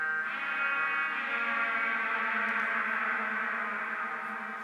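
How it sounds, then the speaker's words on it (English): A sustained synth tone is drenched in heavy reverb, its harmonics smearing into a long, washy echo that lingers and slowly fades. "So much reverb"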